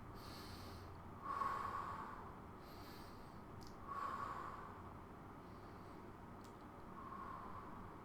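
Two slow, deep breaths in are drawn through the nose during a gentle neck and back arching exercise, each a soft, airy inhale lasting about a second, close and quiet over faint background hiss.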